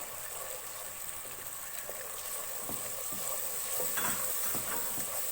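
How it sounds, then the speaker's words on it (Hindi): Spice paste with ginger, ground red chili and turmeric fries over medium flame in a pan, a continuous soft sizzle and hiss with light scraping from stirring, steady and fairly quiet throughout. "और इसको अच्छी तरह से मसाले को भूनेंगे।"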